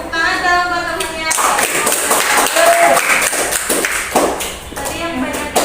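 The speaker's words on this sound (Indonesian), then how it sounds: "Tepuk tangan dong buat temennya." Students clapping in a classroom to cheer a classmate, a burst of close, loose applause and taps with voices talking over it.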